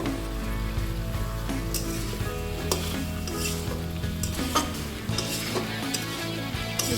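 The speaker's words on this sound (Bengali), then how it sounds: "এবার নাড়া দিয়ে দেখবো" Taki fish and radish curry stirred in a pan, a steady loud sizzle with continuous scraping and clinking of the spoon throughout, no voices.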